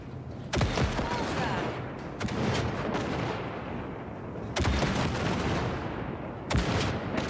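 Gunfire blasting wrecks in the video game Cyberpunk 2077, heavy booming shots with rumbling decays, about five loud blasts spaced a second or two apart over a dense roaring background, with no talk.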